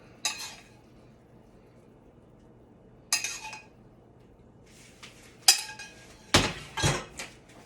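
A metal plating spoon knocks against dishes while demi-glace sauce is plated over chicken, giving several separate sharp clinks and clatters spaced through an otherwise quiet kitchen, with a denser run of knocks near the end.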